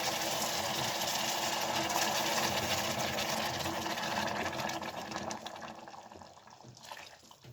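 Broth pours steadily into a hot pan of fried orzo pasta, a broad rushing hiss with faint sizzling, then tapering off toward the end.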